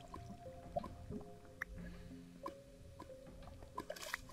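Water drips steadily inside a cave in the video game Minecraft, the plinks scattered and quiet over a soft ambient hum, with no talk.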